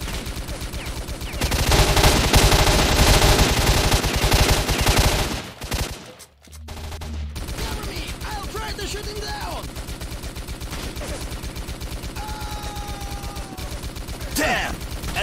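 Bursts of machine gun and sniper fire in a war video game, loud and sustained early on, then a brief lull and sparser distant shots with voices and game sounds underneath.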